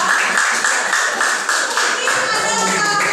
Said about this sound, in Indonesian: Kasih tepuk tangan untuk Tati sudah mencoba.